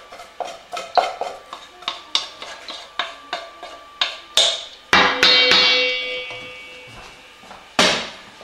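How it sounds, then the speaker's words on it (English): Cabbage roll filling of rice, a bacon and onion mixture and other ingredients being mixed together in a big bowl: a steady run of close, rhythmic thumps and squishes roughly twice a second, with a brief louder clattering swirl partway through. "usually I just use a big giant bowl and I'll take and mix everything together"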